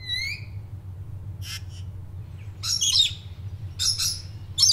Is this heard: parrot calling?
yes